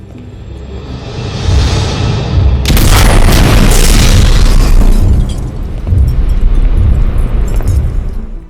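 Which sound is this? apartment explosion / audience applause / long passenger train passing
apartment explosion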